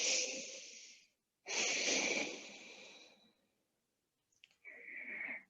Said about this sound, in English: deeply breathing into our bellies.